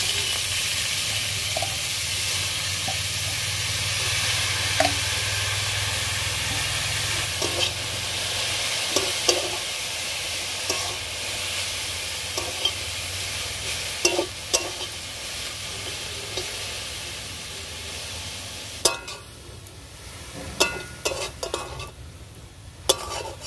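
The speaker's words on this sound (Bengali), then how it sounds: "এবার কপিগুলোকে মাংস ভাজা তেলে ভেজে নেব।" Cabbage fries in oil left from frying meat, a steady sizzle and hiss with intermittent stirring clicks and pan knocks, loud and close, no talking.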